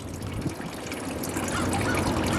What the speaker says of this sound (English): I'm draining the fuel now.